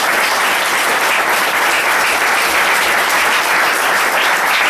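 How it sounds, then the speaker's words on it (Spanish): Loud, dense applause from a large audience at the end of a talk, steady and sustained throughout without pause. "Un fuerte aplauso."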